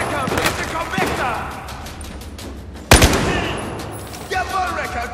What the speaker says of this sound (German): Jawohl, Wrecker, guter Schuss.